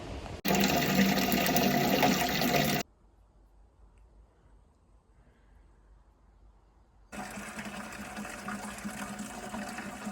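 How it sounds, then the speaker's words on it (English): Water splashing steadily onto tomato plants, loud and close, in two bursts of about two seconds and three seconds separated by a quiet pause. "now I'm going to water the tomatoes"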